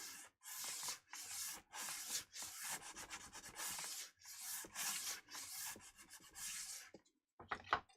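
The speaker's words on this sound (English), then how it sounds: "And now just polish or sand the excess." Sanding excess wood filler on the body of a 1965 Fender Mustang guitar: repeated rough rasping strokes, loud and close, in steady bursts with brief pauses, then a short clatter near the end.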